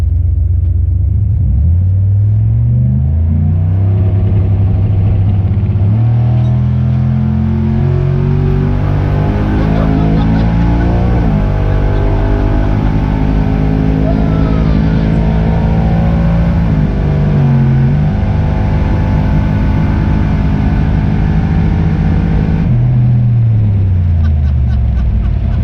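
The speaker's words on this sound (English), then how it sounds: "I did a draggy 1/4 mile pull, and I'll insert that here" A truck with a boosted engine making about 10 pounds of boost launches and pulls hard through a quarter-mile run. The engine roars and its pitch climbs through several gear shifts, with loud, close rumble throughout.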